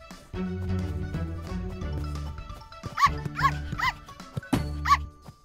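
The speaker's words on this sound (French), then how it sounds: "Quelle coquine, cette petite chienne!" A small cartoon female dog yips in short high barks, several quick sharp yaps in a row over bouncy background music.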